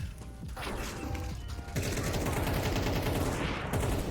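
Rapid gunfire from the video game Counter-Strike 2, loud and sustained in dense bursts that thicken after the opening second, with no talking over it.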